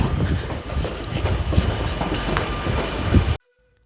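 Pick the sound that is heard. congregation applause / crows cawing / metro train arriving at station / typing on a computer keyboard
metro train arriving at station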